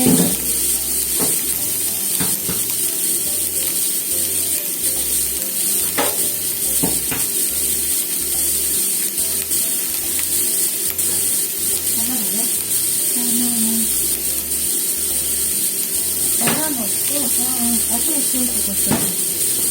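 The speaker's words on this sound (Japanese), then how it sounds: "足の速いもやしも 炒めて、" Bean sprouts and dried whitebait stir-frying in a hot pan, with a steady loud sizzle and hiss broken by repeated scraping and clattering stirs throughout.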